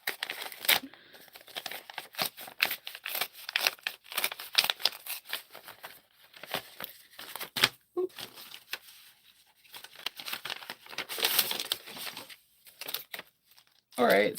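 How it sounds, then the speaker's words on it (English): A pretty paper envelope slit and opened with a letter opener, close crinkling, tearing and rustling in uneven bursts, with a voice talking at times. "With this really pretty envelope. Letter opener."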